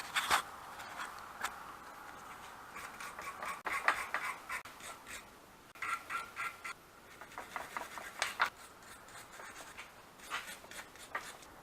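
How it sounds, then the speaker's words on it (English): Bolts being scrubbed clean before copper grease goes on, heard as close, irregular bursts of scraping and rubbing with short pauses between strokes. "Just going to clean up these bolts here"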